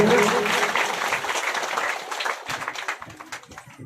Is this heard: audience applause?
yes